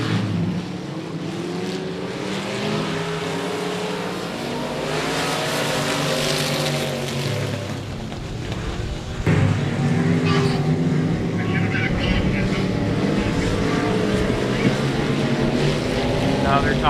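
Limited modified race cars run dry laps at a dirt speedway, engines droning steadily and growing louder partway through, mixed with announcer speech and crowd ambience.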